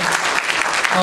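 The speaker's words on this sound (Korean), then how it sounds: "큰 박수로 환영해 주시기 바랍니다." An audience at a book launch event claps steadily and densely to welcome arriving guests, a loud continuous wash of hands throughout.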